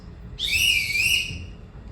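One long, shrill whistle blown to call household staff during a stage show rings out clearly for just over a second, close and loud above a low hum.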